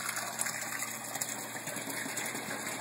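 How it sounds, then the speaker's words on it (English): A pump pushes water from a sump into an aquaponics fish tank, making a steady, gushing pour that splashes continuously at close range with no talking. "Water pumping in from the sump."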